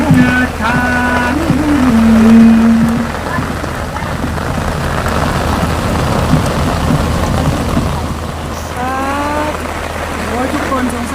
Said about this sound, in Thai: ฝนตกแรงมาก